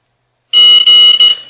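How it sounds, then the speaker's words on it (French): A loud, piercing electronic smoke detector alarm sounds in three rapid bursts after a moment of silence, shrill and close. "dès que je sollicite le détecteur de fumée"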